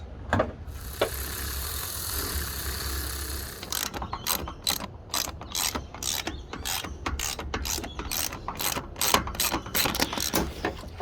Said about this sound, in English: Just gonna go ahead and put the mounting brackets on first.